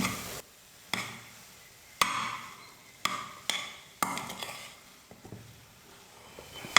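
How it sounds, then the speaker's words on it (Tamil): Spiced potato snack mixture sautéed and stirred in a pan on a medium flame, with a steady sizzle broken by regular sharp scraping knocks of a spoon roughly once a second, close up. "இப்போ இது எல்லாத்தையும் சேர்த்து ஸ்டவ்வை மீடியம் ஃப்ளேமில் வச்சுட்டு 2 நிமிஷத்துக்கு நல்லா வதக்கிக்க போகிறேன்."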